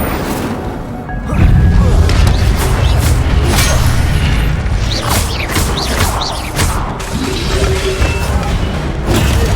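Spell effects from Hogwarts Legacy, including the fire spell Incendio, as a Gryffindor player fights: continuous loud booming, crashing and whooshing combat sounds with sharp bursts, no talk.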